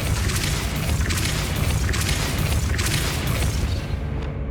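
A Depulso spell blast in Hogwarts Legacy lands as a loud, sustained roaring boom with a dense rumbling wash that holds steady and then drops away.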